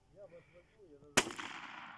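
A single sharp shotgun blast fired during a spring duck-hunting outing, aimed at a bottle in a tree, bursting loud and close and trailing off in a rough outdoor echo, preceded by a soft murmured voice.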